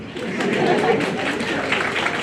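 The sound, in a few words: audience applause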